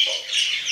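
A crow calls near a window, one short, loud, harsh squawk heard up close and alone.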